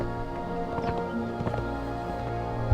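Rhythmic hoofbeats of a galloping horse in the video game Conan Exiles clatter along steadily over a constant low background hum, with no talking.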